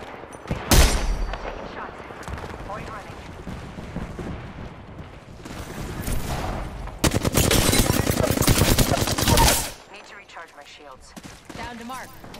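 Rapid automatic gunfire in the Apex Legends video game, loud bursts clustered near the start and a long sustained barrage toward the end, with shorter shots and game noise between and quiet speech underneath.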